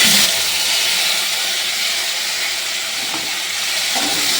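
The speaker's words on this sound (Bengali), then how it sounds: "এবার মশলাটাকে ভালো করে আমি ভেজে নেব" Spice paste with cumin seeds and two bay leaves frying in oil for a vegetarian kohlrabi curry, giving a loud, steady broadband sizzle and hiss that holds evenly throughout with no talk.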